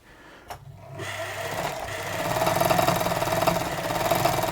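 A Bernina 117 sewing machine, freshly freed from being seized, starts after a brief click and then runs steadily, its fast rhythmic motor whir and needle clatter building slightly louder and holding close, with no speech.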